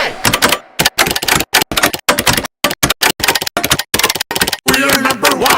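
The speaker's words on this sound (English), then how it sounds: "Mechanical keyboard." Mechanical keyboard keys clack in quick, irregular bursts with short gaps, loud and close, forming a tune; a tonal layer of music or voices joins near the end.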